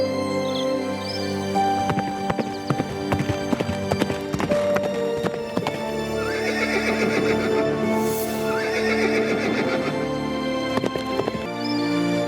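Horse hooves clip-clop in a fast, even rhythm and a horse neighs loudly in an animated cartoon, the hoofbeats running continuously under music.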